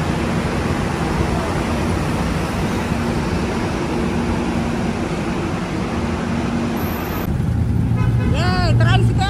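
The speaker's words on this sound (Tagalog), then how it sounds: "Tricycle!" A motor tricycle passes in busy street traffic as a loud, steady engine drone and roadway rumble. Near the end the noise thins and voices come up close.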